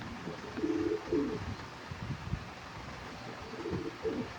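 Soft, low pigeon coos repeat in short rounded phrases, a few calls spaced across the clip over a faint steady background.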